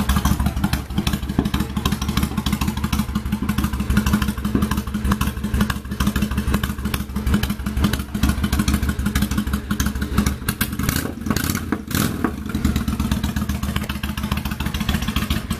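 A motorcycle engine runs close by with a steady, throbbing putter and light mechanical clatter, holding a constant idle with small fluctuations.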